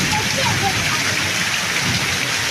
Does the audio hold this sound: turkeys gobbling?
no